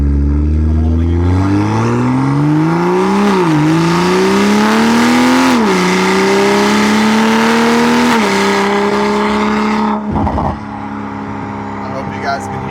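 BMW M340i with the B58 engine accelerating hard through the gears from inside the car, a loud rising drone that drops back at each shift, then eases off toward the end.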